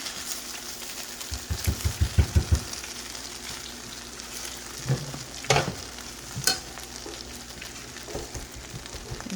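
Fried rice and egg stirred in a hot pan with a silicone spoon, a steady sizzle under a quick run of scraping strokes and a few later scrapes and knocks, close up, no talking.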